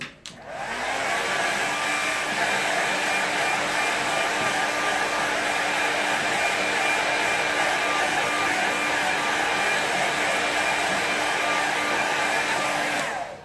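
A hair dryer runs on a wet watercolour painting, a steady, close whooshing blow that starts abruptly and holds even for over ten seconds, with no talking.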